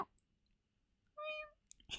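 A single short, faint meow, apparently a person's voice imitating a cat as a good luck gesture, rises briefly out of near silence, followed by a couple of soft clicks.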